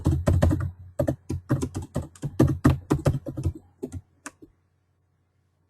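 A username and password are typed on a computer keyboard as rapid, close keystroke clicks in quick bursts, slowing to a few final taps before silence.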